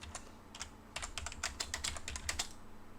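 Quick bursts of computer keyboard typing as AutoCAD commands are entered, a close, quiet run of taps with a few isolated keystrokes before a denser flurry.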